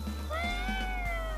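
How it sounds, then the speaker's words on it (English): A cat in a video game gives one clear, drawn-out meow over a low steady game background hum, with no talk. "Is that a cat?"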